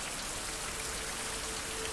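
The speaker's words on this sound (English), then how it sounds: "So obviously there's not much we can do if it's raining." Steady, dense rainfall in the survival video game Survival: Fountain of Youth, a continuous even hiss of drops on surfaces with no gaps and no voices.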